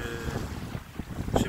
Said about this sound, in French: Tandis que j'ai le vent qui souffle en arrière de moi.